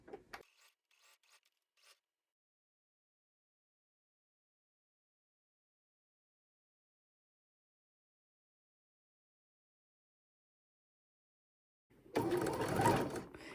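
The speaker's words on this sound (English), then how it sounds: "Okay, so now I'm just gonna sew on the sleeve." A sewing machine stitches a sleeve onto a McCall's 7809 shirt made of Art Gallery cotton fabric. After a long quiet stretch, it runs in one loud, steady burst close to the mic.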